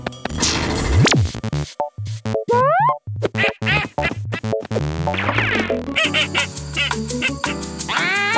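Cartoon duck quacking in a children's animated show, a rapid series of loud, close, honking quacks mixed with playful sliding sound effects and musical tones.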